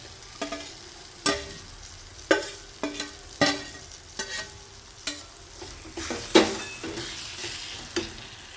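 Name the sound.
sautéing ridge gourd bharit with spring onion in pan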